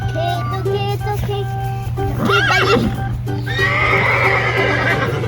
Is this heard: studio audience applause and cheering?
no